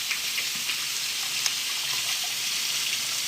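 Zucchini crisping in a hot pan makes a steady, bright hiss of frying with occasional small pops, close and constant throughout without any voices.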